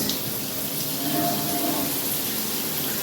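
Water runs steadily from a filtered kitchen faucet with nice pressure, a continuous even gush close by, without talk over it.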